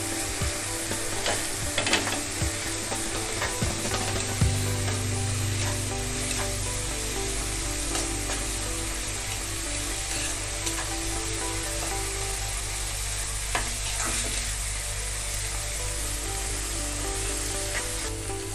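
Onions frying in a pan for a tinda curry, a steady loud sizzle with a spoon stirring and scraping, and a clack from the lid being lifted partway through.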